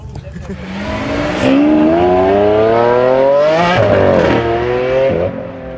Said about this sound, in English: The car is going back into the garage.